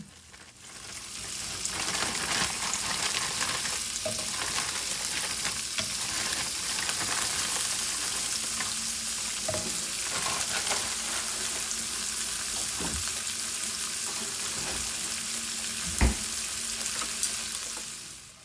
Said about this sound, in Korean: 자 이제 파기름에 고기를 볶아주겠습니다